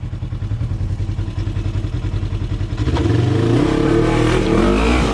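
An off-road vehicle on a rocky trail chugs at low speed with a rhythmic engine pulse, then revs louder and strains as it climbs up over a rock, close and loud with no talking.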